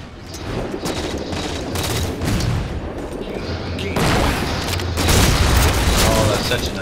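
A grenade blast in the online shooter Halo on the map Skyline: a heavy, rumbling explosion, loud and dense, with layered booms and debris over continuous game noise.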